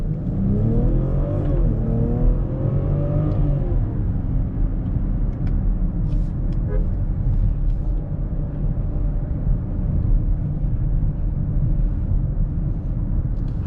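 A BMW X7 40i M Sport SUV accelerating hard, its engine revving with a rising, climbing tone early on before settling into a steady, loud drone of engine and road rumble, heard close from inside without talk.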